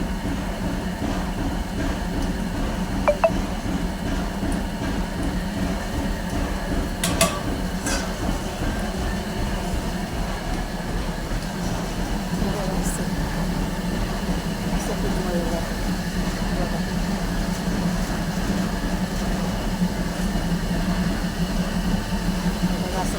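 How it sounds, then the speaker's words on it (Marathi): A dough kneading machine runs with a steady, droning mechanical hum and rumble throughout, continuous and unchanging, with occasional faint clicks. "पीठ मळायची मशीन आहे"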